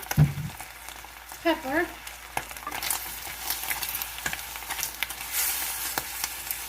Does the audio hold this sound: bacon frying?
yes